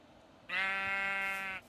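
A sheep in the Minecraft video game gives a single clear bleat lasting about a second, loud and close, with no talk over it.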